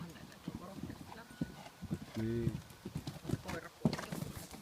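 Horse hooves clip-clop intermittently at a show-jumping competition, close but partly masked by conversation in Finnish, with a brief whinny in the middle.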